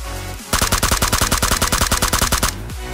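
Rapid automatic gunfire in a battle royale video game, a loud sustained burst of about twenty evenly spaced sharp shots lasting around two seconds, with no talking.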